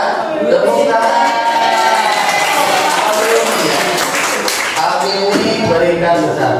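Applause from a classroom group during a teacher competency exam session in Indonesia, a steady wash of clapping lasting several seconds, mixed with voices and chatter.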